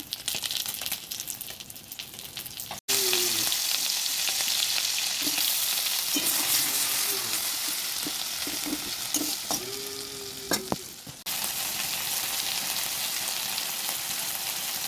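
Catla fish pieces frying in hot oil give a loud, steady sizzle, with short pauses and scraping stirs of a spatula partway through, heard close up with no talking.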